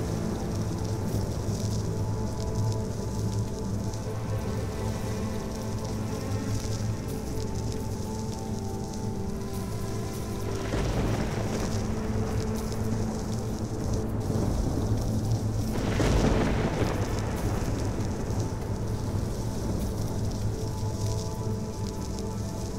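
Thunderstorm in the video game Toren: steady heavy rain with two rolling thunder rumbles swelling midway, constant and fairly loud with no speech.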